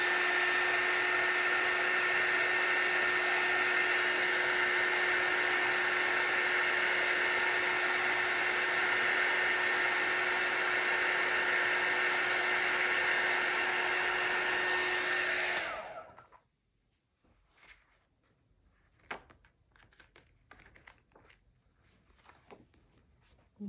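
A handheld blow dryer runs steadily and loudly for about fifteen seconds while drying a craft project, then shuts off. Faint handling noises follow in near silence.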